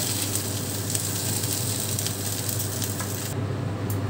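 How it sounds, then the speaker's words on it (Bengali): Okra fries in a pan with a steady, close, even sizzle throughout, with faint stirring noises and no voice. "ঢ্যাঁড়সগুলো আমার ভাজা হয়ে গেছে, দেখুন প্রত্যেকটা গায়ে লাল লাল দাগ হয়ে গেছে।"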